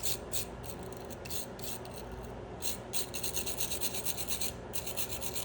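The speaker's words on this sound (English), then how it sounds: "I guess the thing to do then is to hit it with a file, make sure it's hard" Metal file rasping across a hardened steel transmission part, close and fairly loud in a quick run of rhythmic back-and-forth strokes with short pauses between bursts, no talk.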